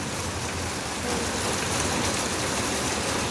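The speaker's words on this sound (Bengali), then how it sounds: "প্রচুর বৃষ্টি পড়ে দেখুন বৃষ্টিটা থামবে না মনে হয়" Heavy rain pours down in a dense, unbroken roar of hiss and patter, steady and loud for the whole stretch, with no voices.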